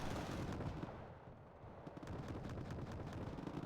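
A Buratino rocket artillery strike in the Wargame: Red Dragon game, heard as a faint, continuous rumble of rolling explosions and crackling impacts with no speech.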